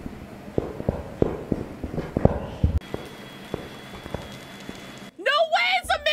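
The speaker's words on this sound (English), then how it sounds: "after I heard its footsteps." Ghost footsteps in Phasmophobia during an apocalypse challenge, a run of irregular thumping steps for several seconds, followed by a burst of excited talking at the end.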